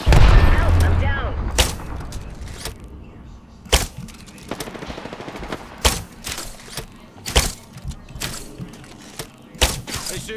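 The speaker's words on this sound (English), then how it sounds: "They're shooting at me." Enemy gunfire in Apex Legends cracks out in sharp, loud, irregular bursts of single shots and short volleys over a busy game soundscape, with a heavier rumble at the start and voices talking now and then.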